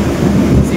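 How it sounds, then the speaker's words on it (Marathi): Heavy rain drums steadily on a metal sheet roof of a village house during a thunderstorm, a dense, loud, continuous roar with no gaps and no voices. "आता वरती पत्र असल्यामुळे पावसाचा आवाज येतो।"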